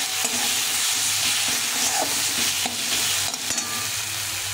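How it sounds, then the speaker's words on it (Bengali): Spices with cumin powder and chilli powder being sautéed in a pan, giving a loud, continuous close sizzle with occasional stirring scrapes and no talking. "এটাকে ভালো করে কষিয়ে নেব"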